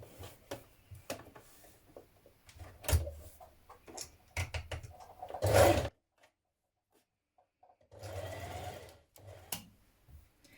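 A sewing machine stitches close to the folded edge of a shirtdress button band in short, uneven bursts separated by brief pauses and one near-silent gap, fairly quiet overall with one louder run.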